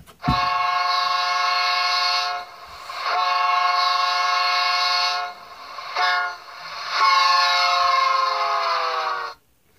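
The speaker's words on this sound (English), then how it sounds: "Function 11 is your fast Doppler horn when you're at fast speeds." A fast Doppler-style horn from a DCC sound decoder in a Rapido F40PH-2D model locomotive blares loudly in several long multi-tone blasts separated by short gaps, with no voices.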